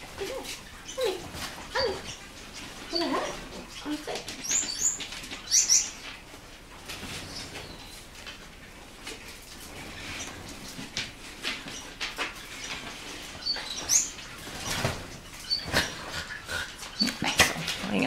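Puppies in a pen whimper and yelp in scattered high, thin cries, faint and intermittent over a quiet background for a long stretch.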